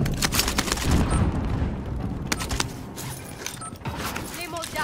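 Rapid bursts of video game gunfire crackle through a dense, noisy mix, with scattered impacts and mechanical clatter over roughly five seconds.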